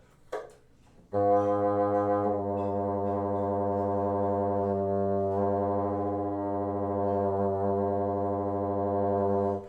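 A sustained woodwind multiphonic with the lower resonance key added, a thick buzzing chord of several tones held for about nine seconds, slightly wavering and muffled, with no talking.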